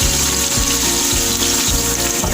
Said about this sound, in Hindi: ये आपके साथ साथ शेयर करते जा रहे हैं प्याज का फ्राई होने का